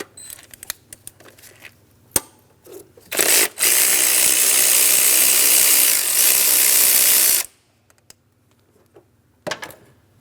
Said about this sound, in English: then we'll remove the nut from the stud at the vise